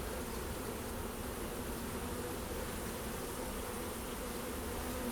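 Honey bees buzz in a continuous, even drone at an opened hive during an early-season inspection, steady and moderately close with no talking.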